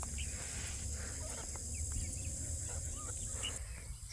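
Keets and ducklings on a farm give small, faint chirps and peeps that come and go over a steady background hiss of insects and outdoor ambience.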